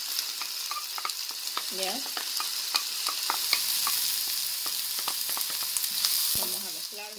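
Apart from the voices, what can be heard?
onion frying in oil in a pan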